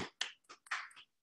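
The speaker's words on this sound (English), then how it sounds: "I actually want to give that a clap" A few quick hand claps ring out close and sharp, about four or five in just over a second, then stop into silence.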